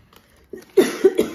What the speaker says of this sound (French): Désolée pour la petite toux.